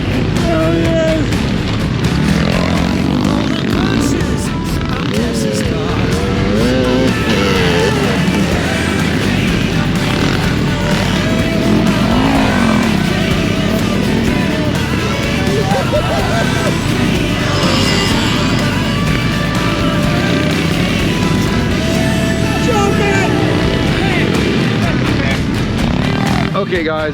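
Pit bike motorcycles race close by, their engines whining and revving steadily without a break, while people talk and shout excitedly over the noise.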